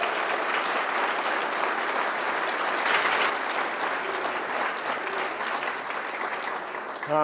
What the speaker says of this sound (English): So I would round of applause for her.